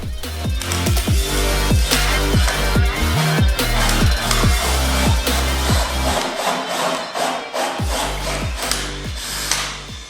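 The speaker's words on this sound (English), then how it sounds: "So I've got a hole saw on a drill. Let's get them drilled out." A power drill fitted with a hole saw grinds through wood with a rough, rasping cut, its pitch rising and falling in quick repeated bursts, loud and close.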